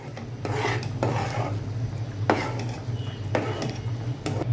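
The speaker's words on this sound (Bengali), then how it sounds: "এখন আমি এটাকে ভালো করে নেড়ে দিব যেন সবগুলোর সাথে মিলে যায়।" A spoon scrapes and rasps in repeated strokes as mashed potato is stirred into chotpoti in a pot, close and steady, with a low hum beneath.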